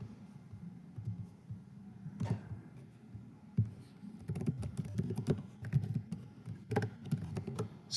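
A computer keyboard clatters under steady typing, with close, quick keystrokes that come in uneven runs and grow busier and louder toward the end.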